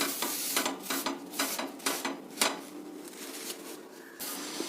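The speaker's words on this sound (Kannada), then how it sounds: "ಈಗ ದೋಸೆ ಹೆಂಚಿಗೆ ಸ್ವಲ್ಪ ಎಣ್ಣೆ ಹಾಕಿ ಸವರ್ತೀನಿ ಒಂದು ಟಿಶ್ಯೂ ಪೇಪರಿಂದ ಹೆಚ್ಚಿನ ಎಣ್ಣೆ ಎಲ್ಲ ತೆಗೆದುಬಿಡ್ತಾ ಇದ್ದೀನಿ" Oil is spread across a hot dosa pan and the excess wiped off with tissue paper, giving repeated soft rubbing and scraping strokes with faint sizzling, close and steady, with no talking.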